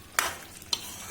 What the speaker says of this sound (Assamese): ঢাকনখন উদঙাই আকৌ এবাৰ লৰাই দিওঁ